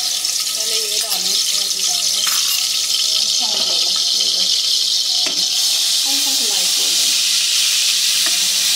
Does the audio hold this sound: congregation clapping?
no